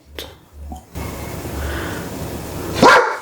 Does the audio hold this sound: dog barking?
yes